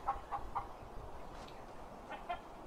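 Several chickens cluck in a short, scattered series inside the Sims Medieval video game, the calls faint and spaced out over a quiet background with no talking.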